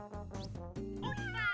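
Cartoonish cat meows from the video game Tasty Planet: Back for Seconds, several short rising cries in quick succession over steady game music, loud and close.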